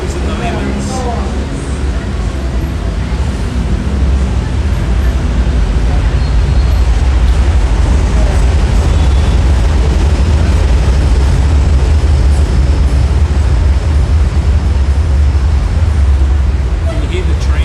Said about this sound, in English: The train is very, very loud.